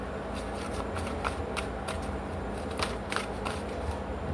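A deck of tarot cards is shuffled close up, producing a continuous papery riffle with soft flicks and crackles that runs steadily throughout with no voice.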